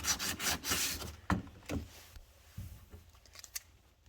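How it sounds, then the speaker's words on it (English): A wooden hutch is sanded by hand, with soft, quiet rasping strokes of paper over wood in an uneven rhythm, close up and with no voices. "I just keep feeling it as I sand to see if I like how it feels."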